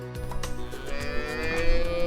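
Longhorn cattle moo close by, a low, drawn-out bellow with rich harmonics that swells and holds for about two seconds, with no voices over it.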